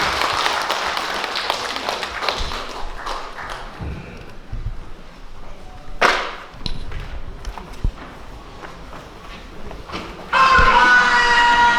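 Audience applause fills a hall at a book launch event, welcoming student performers from a broadcasting and entertainment department onstage. The clapping is steady and dense, then thins, and music starts loudly near the end.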